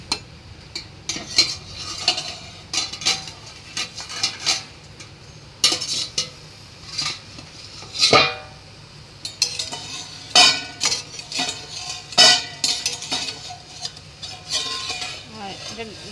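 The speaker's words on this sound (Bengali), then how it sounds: "আর এখন আমি ঢাকনা খুলে দেখব কেমন হয়েছে" A lid coming off a pot of steamed fish bhapa, heard as close metallic clanks, clinks and scrapes of cookware that come in irregular bursts, with occasional faint voice-like sounds.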